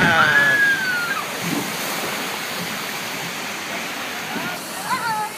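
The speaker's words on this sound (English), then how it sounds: "Splash." A log flume ride at Splash Mountain, the boat drifting through rushing, sloshing water with a steady wash of spray and surf, while riders' voices and cheers mix in throughout.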